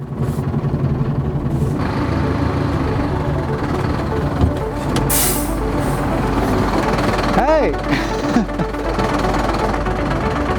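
An old truck engine rumbles along while driving, a steady low drone under excited people talking, with a brief rising whine near the end.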